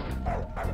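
A dog barks in the point-and-click adventure game Darkestville Castle, two close, loud woofs a fraction of a second apart with no talking over them.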